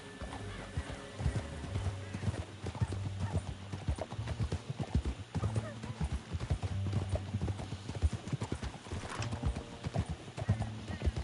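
Horse hooves clip-clopping in a rhythmic gallop in a video game, with an occasional whinny, heard at moderate level under and between a voice talking.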